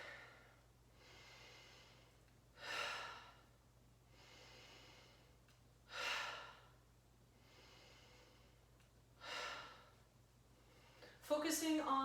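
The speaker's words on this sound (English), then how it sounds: "we're breathing in through the nose, out through the mouth." Deep yoga breaths during a vinyasa flow, inhaled through the nose and exhaled through the mouth, come as three strong, evenly spaced airy exhalations over a soft continuous breathy background, with a brighter rustle at the end.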